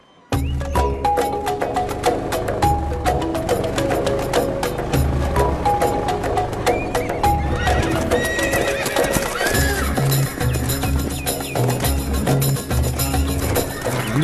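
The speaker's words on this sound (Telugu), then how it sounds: "ఇన్ని గుర్రాలు?" A large group of horses neigh and whinny again and again over a steady, busy clatter of hooves clip-clopping close by, with dense overlapping calls throughout.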